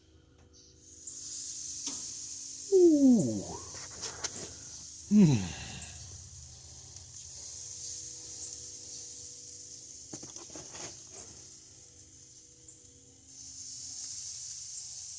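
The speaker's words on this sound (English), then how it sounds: "Listen to that beautiful sizzle" A steady, airy hiss of steak sizzling on a grill runs throughout, while a voice lets out a couple of drawn-out exclamations early on.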